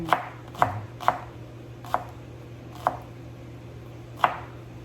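A knife chops lemongrass for Thai larb salad on a cutting board, six sharp, evenly spaced thuds close by with short pauses between, no talking over them.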